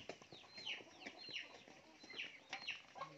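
Farmyard chickens cluck and squawk at feeding time in a rural yard among pigs and ducks, a busy overlapping chatter of calls at moderate distance with rustling in the background.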